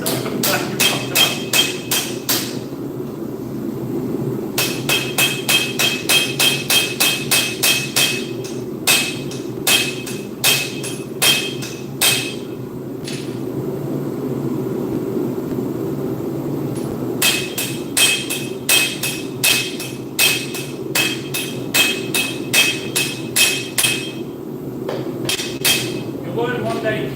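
Hot steel is struck by a hammer in bursts of rapid, evenly spaced ringing blows, with short gaps and slower single strikes between runs, loud and close over a low steady hum.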